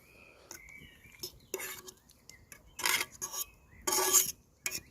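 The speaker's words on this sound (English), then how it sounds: "I don't want to sit here really scraping the side of the frying pan" Metal scrapes repeatedly against a frying pan of sweet and sour pork stir-fry cooked over a campfire, in several uneven rasping strokes, some sharp and loud, over a quiet background.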